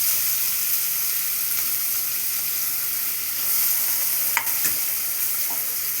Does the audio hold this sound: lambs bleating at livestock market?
no